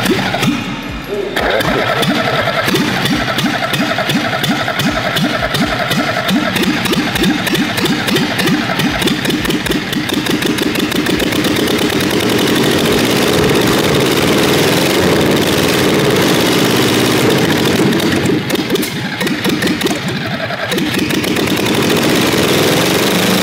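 A fire-damaged car engine cranks briefly, catches and settles into a loud, steady, slightly rough idle that runs continuously and close up, with occasional voices in the background.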